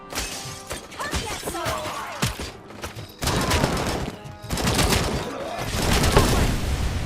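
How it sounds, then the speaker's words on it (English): A bomb explodes in the RoboCop: Rogue City video game amid gunfire and shattering debris, with a loud sudden blast midway and dense crackling chaos continuing after it. "Mislim da je neko bacio bombu"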